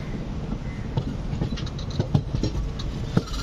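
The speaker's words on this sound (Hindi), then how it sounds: "आप ट्रैक साउंड्स को एंजॉय कीजिए" Sambalpur-Shalimar SF Express train running on tracks near Shalimar, a steady low rumble with soft rhythmic clicks of wheels over rail joints, heard from inside the moving train.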